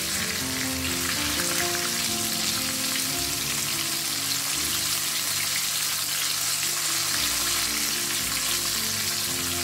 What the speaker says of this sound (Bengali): খুব সুন্দর লাল করে ভেজে তুলবে, ব্রাউন করে